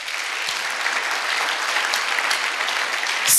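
A church congregation bursts into steady, dense applause that fills the space, holding at an even loudness throughout and swelling slightly at the very end.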